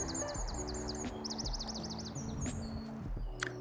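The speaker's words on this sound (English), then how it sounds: "And yeah, the birds are just so loud." Many birds sing and chirp loudly outdoors in early spring, rapid repeated whistled trills and tweets overlapping continuously over a low steady background hum.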